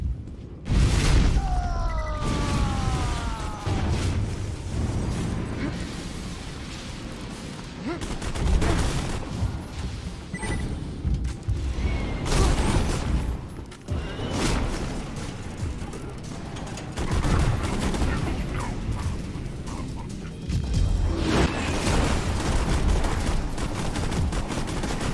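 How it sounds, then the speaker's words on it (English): Lunar bombardment in the video game Borderlands 2: heavy booming explosions and sustained rattling gunfire roll on continuously, with occasional voices mixed in. "Commencing lunar bombardment."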